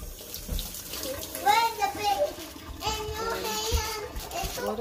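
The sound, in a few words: washing hands under a running tap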